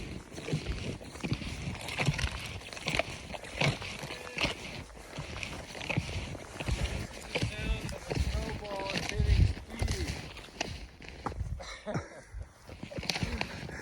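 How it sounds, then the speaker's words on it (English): Crunching footsteps walk through deep snow in northern Michigan, a steady close tread heard beneath someone talking, with wind outdoors. "But can you hear my footsteps?"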